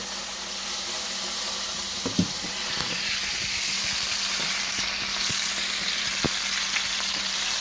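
Steak and vegetables for Philly cheese steaks frying in a pan, a loud continuous sizzle with a few sharp clicks and scrapes of stirring, no voices.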